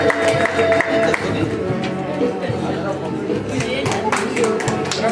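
Guests applaud the godparents at a quinceañera celebration, with scattered hand claps mixed into crowd chatter and background music.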